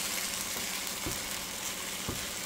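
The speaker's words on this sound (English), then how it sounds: "So I'm gonna keep stirring." A pot of shrimp and grits sizzles steadily on the stove, with two soft scraping thumps from a spoon stirring through it, close and alone.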